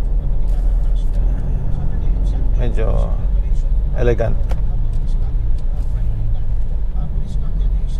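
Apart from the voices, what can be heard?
Mazda BT50 automatic pickup driving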